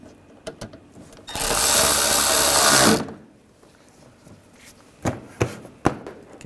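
A power tool runs in one loud buzzing burst of about two seconds while screws are driven down on the upper grille of a 2009-2010 BMW 535i xDrive, followed by a few sharp clicks and knocks.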